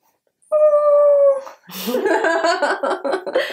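A dog gives a clear, sustained high howl, then breaks into wavering, whiny vocalizing that rises and falls, close by with no other sounds.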